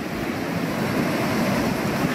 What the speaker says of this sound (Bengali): এই পানির সাউন্ডটাই চমৎকার ভাই